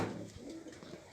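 Pigeons coo in a low, soft burble at a loft, a brief murmuring call close by against a faint background hum.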